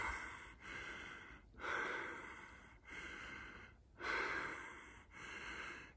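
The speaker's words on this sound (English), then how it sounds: "You'll have to excuse my heavy breathing." Heavy breathing from someone walking through sunny woodland: close, rhythmic in and out breaths, four or five long cycles, steady and moderately loud with no talk.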